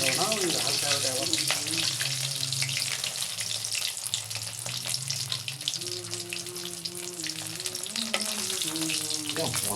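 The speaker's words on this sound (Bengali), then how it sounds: "কত ভাজা দেখাও না, ওই হালকা হালকা আবার।" Eggplant slices fry in hot oil with a steady, close crackling sizzle throughout, while voices talk intermittently over it.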